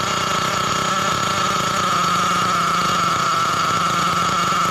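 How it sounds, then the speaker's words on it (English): Nitro RC engine idling steadily after its carburetor idle gap was lowered, a continuous buzzing drone with a strong steady tone, close and loud with no speech. "Let's try bringing the idle gap down."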